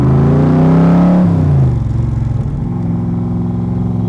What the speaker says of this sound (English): Love the sound of that motor.